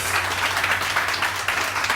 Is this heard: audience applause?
yes